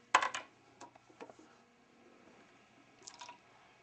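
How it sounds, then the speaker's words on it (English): Water poured from a small jug during a stage magic trick, heard as a few brief splashy drips and splatters, with one loud burst at the start and a second cluster near the end, no talking. "how did you get all that water out of that little jug?"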